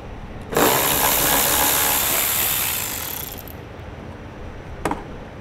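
A power tool whirs steadily for about three seconds while removing a bolt from the front bumper cover of a 2010 Toyota 4Runner, then fades, followed by a short metallic clank.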